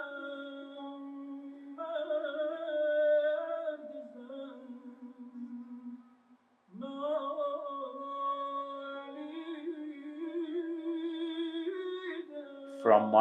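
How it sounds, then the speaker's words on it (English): Breathy, mournful tones from a ney reed flute, played alone in long sustained phrases with gentle pitch bends, a short pause midway, then another slow melodic passage. "now we have the sound of the reed or the sound of the ney"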